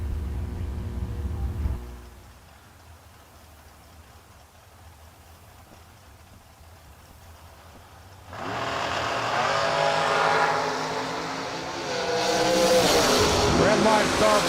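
Drag race cars launch at a Six Shooter Showdown event on a Sunday, a loud engine roar swelling after a quiet stretch and building further near the end, with an announcer talking over it.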